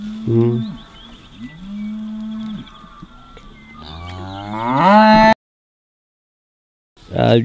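Cattle moo repeatedly at close range on a farm, several long, loud bellowing calls, one rising into a drawn-out bawl before cutting to silence, then another moo starting at the end.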